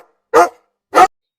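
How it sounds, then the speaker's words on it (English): A dog gives two short, loud barks about half a second apart, close up and isolated with silence between and after. "D is for dog."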